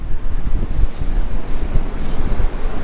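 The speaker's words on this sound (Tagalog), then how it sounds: "Pasensya na, masyado mahangin. Baka hindi nyo ako marinig." Strong wind buffets the microphone in a continuous low rumble during a motorcycle ride, gusting unevenly with no voices.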